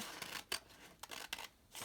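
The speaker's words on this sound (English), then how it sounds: "Now, I'm going to go ahead and cut on the line" Scissors snip through paper along a drawn line, giving a few quiet, crisp cuts in quick succession, close and alone.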